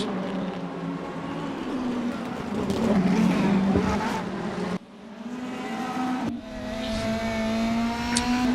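A DTM race car in the Virtual DTM simulator laps the Nürburgring, its engine holding a steady, close, droning roar that drops out abruptly twice as if shifting gear, then climbs again, with no voices.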